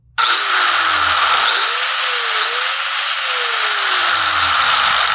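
A DeWalt DCG414 cordless angle grinder starts abruptly and runs at a steady high-pitched whine, the motor pitch rising and dipping slightly as it runs continuously, loud and close, with no speech.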